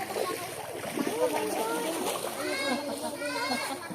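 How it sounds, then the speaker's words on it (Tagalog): Water splashes continuously as people bathe in a river, with children's voices and chatter mixed throughout. "Marami pa mga naliligo dito sa ilog."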